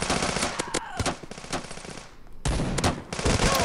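Rapid gunfire from a gun in the mobile shooter Bullet Force, loud bursts of automatic fire with a short lull in the middle before firing resumes.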